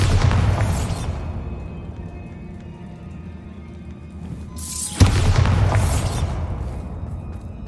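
Two heavy blasts of the Bombarda spell in Hogwarts Legacy, each a loud booming burst followed by crumbling debris and a fading rumble, the second hitting about five seconds after the first.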